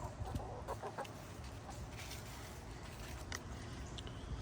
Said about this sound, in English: So the chickens have pretty much stayed nearby because they're staying near me.